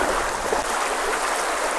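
Floodwater pours fast into a farm field during incessant rain, a steady, loud, broadband rushing and gurgling wash that holds unbroken from start to finish with no voices.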